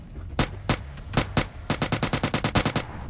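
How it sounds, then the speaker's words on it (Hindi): Gunfire in PUBG Mobile Lite: several spaced single shots followed by a rapid burst of about a dozen evenly timed rounds, sharp, loud and close, with no talking. "यहाँ पे कोई बोट गोली चला रहा था"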